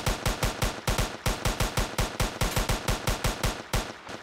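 Rapid automatic gunfire from a gun in the Roblox role-play game Liberty County, firing as a steady, evenly spaced stream of loud shots for about four seconds with no talking.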